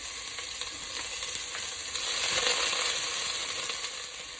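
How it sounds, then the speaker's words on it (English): Onions sauteing in a couple of teaspoons of oil in a pan over medium heat, a steady soft sizzle and crackle with light stirring, close and continuous, no voices. "saute our onions"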